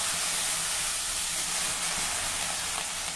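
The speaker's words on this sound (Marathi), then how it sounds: "आता आपल्याला यावर थोडा पाण्याचा हबका मारायचा आहे" Water splashed onto bell peppers roasting in a hot pan sets off a loud, steady steam hiss that holds evenly for the whole stretch, with no voices.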